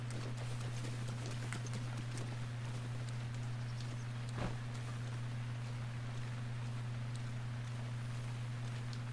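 Horse hooves clip-clop at a steady walking pace in The Legend of Zelda: Breath of the Wild, over a constant low electronic hum, with no talking.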